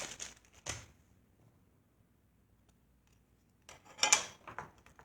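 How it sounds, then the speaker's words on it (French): Scissors cut out a paper card in short, crisp snips: a quick pair at the start, a long quiet pause, then a cluster of sharper snips near the end, faint and close. "Je vais le découper au ciseau."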